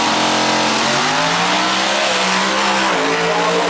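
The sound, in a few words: drag race car accelerating down the strip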